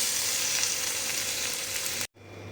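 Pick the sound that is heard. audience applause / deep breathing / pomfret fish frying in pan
pomfret fish frying in pan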